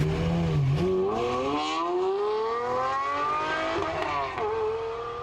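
A Pagani Huayra Roadster with a mid-rear AMG twin-turbo V12 accelerating, its loud engine note climbing steadily in pitch through a long pull, dipping briefly at a shift, then rising again.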